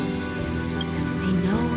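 Steady rain falls on surfaces in a Honkai Star Rail game scene, a continuous soft patter with a faint tonal music or ambience layer beneath and no talking.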